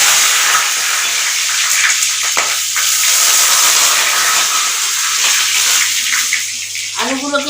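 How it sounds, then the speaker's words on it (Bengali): Bay leaves sizzle in hot mustard oil in a kadai, giving a loud, continuous frying hiss with a few faint knocks of utensils. "কড়ার মধ্যে কিছুটা তেল দিয়েছি সর্ষের তেল দিয়ে তেজপাতা দিয়েছি"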